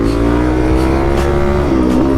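Motorcycle engine idling and revving up steadily, a continuous close drone with rising and falling pitch as the rider warms up before practicing wheelies.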